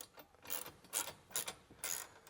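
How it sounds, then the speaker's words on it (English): Wrench turning bolts on a Peterbilt truck mirror mount, giving several short ratcheting clicks in separate bursts, close and fairly faint, with no talk. "So I'm gonna grab my wrench."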